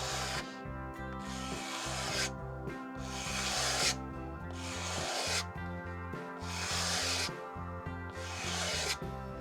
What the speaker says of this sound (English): I will be using 90-degree angle and lightly scrape